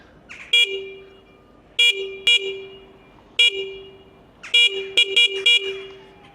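A Yamaha R6 motorcycle's aftermarket horn honks repeatedly, close and loud: short beeps in irregular bursts, some single and some in quick triple runs, with quiet gaps between.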